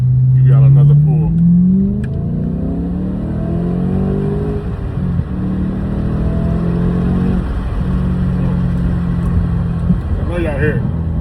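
An Audi RS4 engine revs, rising from a deep idle rumble into a climbing, throaty pull that holds steady before easing off, loud and close, with a voice talking over it.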